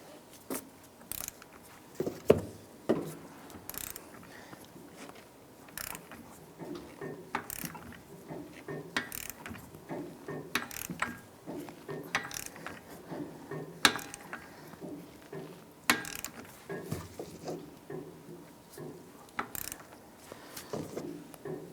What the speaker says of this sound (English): We're going to go ahead and torque down our axle nut to 221 foot-pounds.